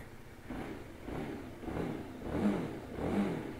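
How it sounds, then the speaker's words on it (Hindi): A chilly motorbike engine, cold-started after a night of hailstorm, is revved in several rising pulses, each swelling and easing back in a steady rhythm, moderately close and with no talk. "पहले बाइक को थोड़ा कोल्ड स्टार्ट करते"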